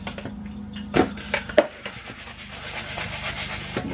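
Roast potatoes tossed around in a small bowl give a few sharp clinks and knocks against its sides, with scraping rattles in between, fairly close and without speech.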